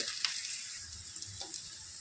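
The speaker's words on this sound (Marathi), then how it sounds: "कांदा छान फ्राय झालेला आहे पहा सॉफ्ट झालेला आहे" Onion frying in a pan for a rustic taro curry, a soft, even sizzle with a few faint stir clicks, fairly quiet and close.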